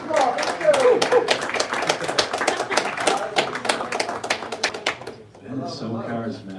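Applause at a New York roundtable on generative AI, dense and fairly close at first, then dropping away as voices begin talking near the end.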